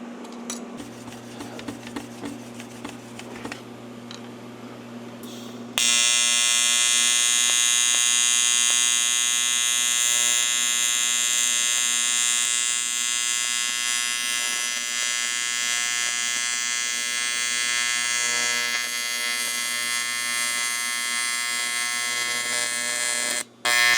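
AC TIG welder running too hot on metal with an undersized filler rod, a steady loud electric buzz with dense harmonics holding for about eighteen seconds after a softer start, then cutting off abruptly.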